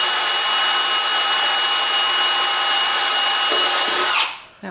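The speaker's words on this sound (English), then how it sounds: "it does take a little strength to push that drill into this old hard wood" A power drill whines steadily at high speed, boring into old hard wood of a house during window replacement, then spins down abruptly near the end.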